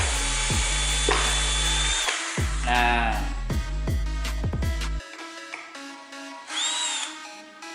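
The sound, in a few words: Black+Decker Gopak cordless drill running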